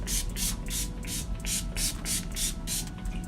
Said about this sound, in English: So I'm going to spray my face.